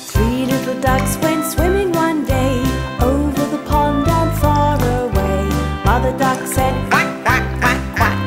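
Duck quacking in a sung nursery rhyme, rhythmic repeated quacks woven into a loud, busy music track with jingling instruments and a steady beat.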